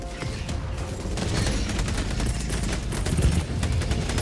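Mortar fire against bugs in the video game Helldivers, heard as dense, continuous rumbling blasts and crackling gunfire throughout, loud and sustained with no talking.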